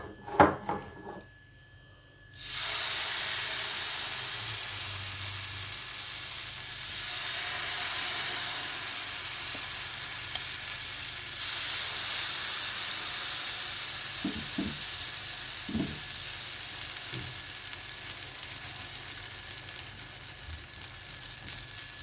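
Rice flour batter with raw banana poured into a hot oiled pan, bursting into a loud, steady sizzle that starts abruptly and continues close up for many seconds with a faint clink or two.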